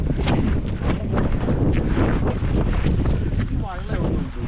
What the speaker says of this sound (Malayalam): നല്ല കാറ്റാണ്. കൊടന്ന് ചൂടിയിട്ട് നിൽക്കണില്ല.